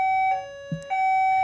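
An electronic alarm sounds a sustained steady tone that cuts off briefly and then resumes, loud and clear, with no voices.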